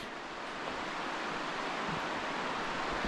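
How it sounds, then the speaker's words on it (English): A river at the Sulphur Gates viewpoint rushes steadily in a constant broadband wash, fairly faint and unchanging, with possible wind mixed into the flow. "It's a nice little river."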